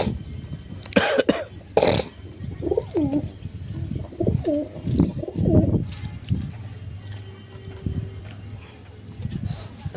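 Pigeons and their chicks in a loft give soft, irregular coos and grunts close by, with coughing and rustling sounds mixed in and a few sharp noises early on.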